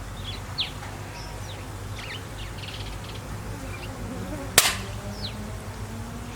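A Daystate Red Wolf Safari airgun fires a slug on a long-range pest-control hunt: one sharp, loud crack with a short tail, standing out against outdoor ambience with scattered birdsong.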